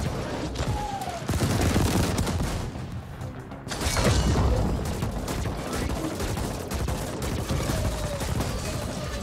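Dense, loud bursts of high energy weapon fire in the sci-fi action game The Ascent, with rapid shots, booms and mechanical noise layered continuously through the fight.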